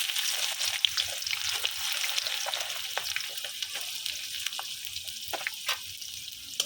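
Whole dry spices and chopped onion fry in hot oil on a wood-fired stove, giving a steady, fairly soft sizzle with scattered sharp crackles and pops throughout.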